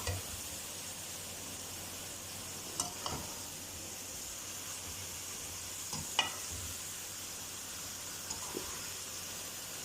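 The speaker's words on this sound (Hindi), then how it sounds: "इनके अंदर भी ऑयल है, मसाले के साथ अच्छी तरह इन्हें मिक्स करेंगे" Fried okra and potatoes are stirred into oily masala in a pan, a soft continuous sizzle broken by a few sharp scrapes and clinks of the spoon against the pan.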